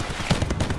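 SG12 shotgun fire in Call of Duty Black Ops Blackout, a quick, moderately loud burst of shots peaking in the middle of a busy game mix.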